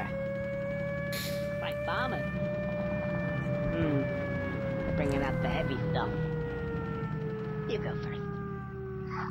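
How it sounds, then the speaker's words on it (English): Air raid sirens in the video game Conker's Bad Fur Day drone in several steady, slowly descending tones while a person talks over them, with scattered brief game effects. "air raid sirens."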